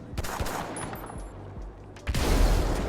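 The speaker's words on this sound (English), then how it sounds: "Look at the size of those explosions" Rapid bursts of gunfire and booming blasts in the video game GTA V with a fire overhaul mod, ending in a loud, sustained explosion rumble.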